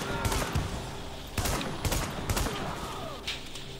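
Gunfire from the video game The Division crackles in several sharp bursts and single shots over a steady background of game ambience, moderately loud and close.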